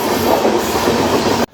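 A train rumbles past at Varanasi Junction railway station, loud and close, with a dense, continuous roar and rattling wheels that cuts off abruptly at the end.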